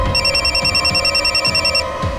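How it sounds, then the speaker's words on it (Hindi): A telephone rings in a steady repeating electronic warble, loud and close, ringing on its own with no voices over it for about two seconds. "सावंत का फोन था।"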